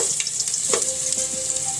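Garlic sautéing in hot cooking oil for mussel tinola, a continuous close sizzle with a few scraping stir sounds and no voices.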